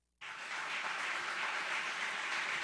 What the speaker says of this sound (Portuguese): Será que você pode aplaudir ao Senhor?